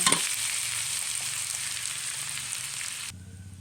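Curry paste and pork belly sizzle loudly in hot lard, a continuous frying hiss with light stirring scrapes, cutting off abruptly near the end to a quiet background hum.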